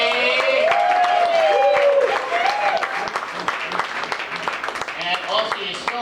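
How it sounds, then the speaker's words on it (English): Audience at a bar applauding their waitress: a burst of clapping and cheering from a crowd that thins into scattered claps, with a voice talking over it at the start. "Have a nice round of applause for Whitney."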